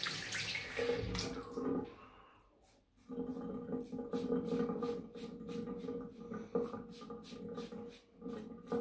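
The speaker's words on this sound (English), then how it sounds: "just going to wet the face" Water splashing and running from a tap while the face is wetted before a shave, a steady close rush with small splashy bursts and brief pauses, heard alone.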